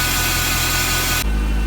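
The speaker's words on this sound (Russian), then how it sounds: "В общем, машина почти прогрелась. Высокий холостой, потому что я здесь установил." A Mercedes W201 190E with the M102 engine and E-Jetronic injection idles high while nearly warmed up, a steady close mechanical hum that shifts abruptly in tone partway through, with no talking.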